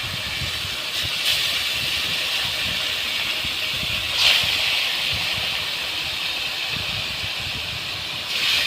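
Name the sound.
fish frying in hot oil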